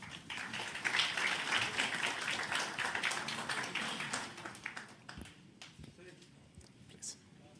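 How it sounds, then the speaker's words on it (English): Crowd at a Google and Andhra Pradesh government forum applauds in a broad, dense wash of clapping that swells early then thins and fades toward the end, with faint voices mixed underneath. "Let's give a big applause to this forum."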